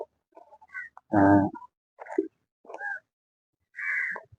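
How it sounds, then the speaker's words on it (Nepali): A crow caws several times in short, separate bursts near the sea, one louder harsh call followed by quieter caws, close by with silence between. "कौवा काग काग कता गयो"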